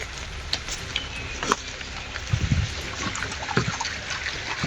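Water from a river trickling and gurgling nearby, with a few splashes and knocks over a steady low flow.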